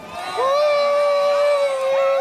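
Mardi Gras parade crowd in 2023 lining the route dozens deep, a loud sustained cheer with a single high voice ringing out over the crowd noise.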